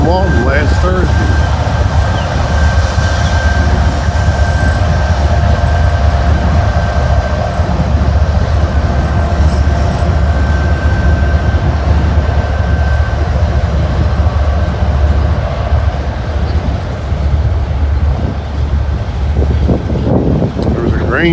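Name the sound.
intermodal / auto rack freight train passing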